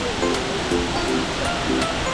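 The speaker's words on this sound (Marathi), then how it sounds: "हा छोटा धबधबा आहे इकडे आणि काही मोठा धबधबा." Steady rushing water from a small waterfall at a crowded rocky waterfall spot at Talwade, a continuous broadband wash with no voices standing out.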